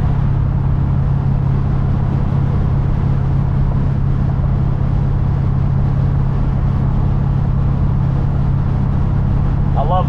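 A 1968 Chevrolet C10 pickup truck with its engine running, a loud, steady low rumble that holds evenly throughout with no breaks.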